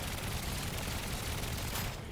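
Smart cannons in the video game Trailmakers fire in a dense, continuous barrage of rapid shots, loud and steady throughout before cutting off abruptly at the end.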